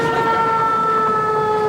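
An emergency vehicle siren from an old school movie wails steadily and loudly, a continuous tonal blare over low engine rumble.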